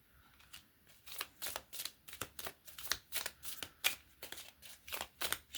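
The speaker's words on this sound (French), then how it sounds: "Je tire les cartes, je te dis après." A deck of cards is shuffled for a card reading, making brisk, rhythmic riffling bursts that repeat many times in quick succession. The sound is close and quiet, with no talking.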